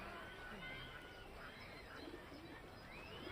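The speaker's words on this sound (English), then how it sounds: "with the ducks and the other pond birds with all the quacking and the splashing" Ducks quacking faintly at a distance on a pond amid a busy, noisy outdoor wash of ambient sound, calls scattered and overlapping.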